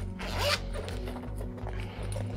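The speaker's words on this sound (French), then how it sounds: "il se ferme par une fermeture éclair ici" A zipper is drawn shut on a small fabric pouch, close and clear, as one quick rasping pull followed by a few softer tugs, with no talk.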